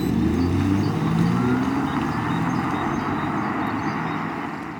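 A 2023 Mercedes-AMG GT63S E Performance (843 bhp hybrid) runs in electric mode, giving off a steady, synthetic EQS-style hum that stays loud and even throughout, with no talking.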